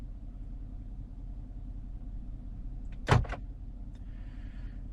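Car door locks actuated by a Thinkscan 689BT scan tool: a single quick mechanical clunk of the locks against a low steady engine-like rumble, followed by a faint brief whir.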